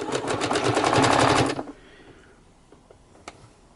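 A sewing machine stitching fabric ruffles runs in a fast, steady rhythmic chatter for about a second and a half, then stops, leaving faint clicks and handling noises.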